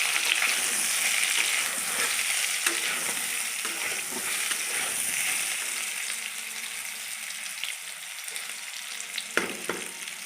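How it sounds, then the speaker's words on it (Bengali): Chicken balls frying in a little white oil in a wok: a steady close sizzle with stirring scrapes and occasional clinks, no talk. "ওই কড়াইয়ে আমি একটু অল্প সাদা তেল দিলাম, দিয়ে আমি সেঁকে রাখা বলগুলো দিয়ে দিলাম, হালকা একটু ভেজে নেব।"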